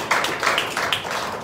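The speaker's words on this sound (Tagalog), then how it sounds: "Palakpak sa ating Panginoon." Congregation clapping in church during a worship service, a few quick rhythmic hand claps close by, no talk.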